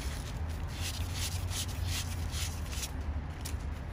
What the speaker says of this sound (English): Use the sandpaper.